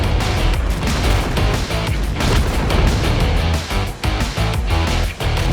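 Continuous rumbling tank combat from World of Tanks, with heavy booming cannon shots and crashing impacts layered densely over a low engine drone, loud and sustained throughout with no speech.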